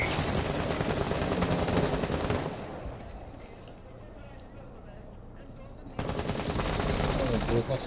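Rapid automatic gunfire in the Rainbow Six Siege video game, loud bursts in the opening two seconds and again from six seconds on, with a quieter stretch between and talk layered throughout.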